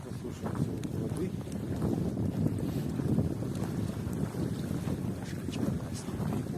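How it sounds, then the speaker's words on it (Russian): Lake waves washing onto a shore at Kachkanar on a windy, sunny day, a steady low rumble of water with wind buffeting the microphone and small splashes throughout. "Послушаем звук воды."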